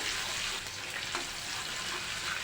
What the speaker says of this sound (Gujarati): ડુંગળીને બરાબર આપણે સાતળી લઈશું